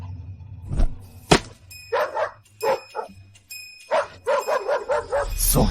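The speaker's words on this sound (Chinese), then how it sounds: "刚刚有狗叫的太大声" A dog barks loudly at close range, first a couple of sharp single barks and then a quick rhythmic run of barks, with no speech.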